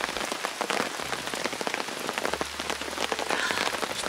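Rain falls at a forested mountain campsite, loud close drops pattering on surfaces in a dense, continuous patter with no talk.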